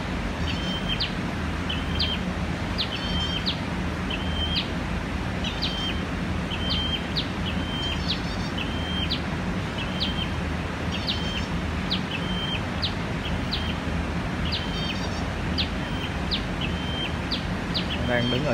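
Wild birds chirp near a bird trap set for spotted-headed sunbirds, with short high calls repeating every second or so over steady outdoor background noise.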